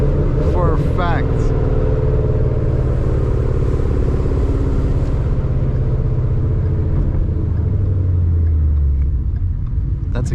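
A Ford Mustang 5.0 with straight pipes rumbles steadily while driving, its deep engine note running throughout beneath people talking inside the car.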